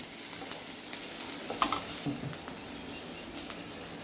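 Onions sautéing in a pan until translucent for a Kathiyawadi spicy curd curry, a steady soft sizzle with scraping stir sounds and a few louder clinks near the middle.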